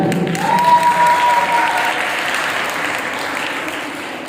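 Applause from an audience at a college mushaira poetry gathering, a strong burst of clapping that gradually thins and fades over a few seconds, with a brief whistle-like tone near the start.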